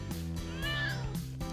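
A cat in the Disney Dreamlight Valley video game gives a clear, rising meow, near and prominent, over a layered game music background.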